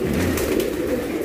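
Pigeons in a rainy-season loft give a steady, close murmur of low cooing that runs unbroken through the short stretch, with no talk over it.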